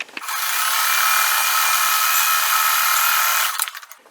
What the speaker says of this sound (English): I'm going to sew this right here on the foundation.